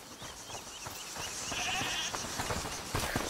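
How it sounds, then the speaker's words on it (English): Goat bleats within the game A Plague Tale: Requiem, heard among ongoing ambient game sound, with a few short bleating calls in a moderately busy background. "Listen, is that the goat he talked about?"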